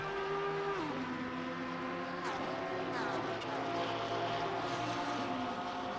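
Porsche GT race cars battling in Assetto Corsa Competizione at Circuit of the Americas, engines droning steadily with rising and falling pitch sweeps and gear changes, continuous and fairly close, under commentary.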